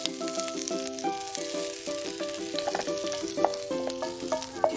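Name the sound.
tofu sizzling while stir frying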